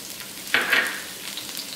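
Red chili and garlic frying in a pan over medium heat for stir-fried spicy pickled green mustard, a sudden loud sizzle as they hit the oil, then a steady crackling hiss that fades slightly, with no talking.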